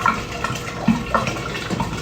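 Cold water pours into a home-brewing fermenter for a double hazy IPA, a continuous splashing, gurgling stream with a few louder glugs, close and alone without talk.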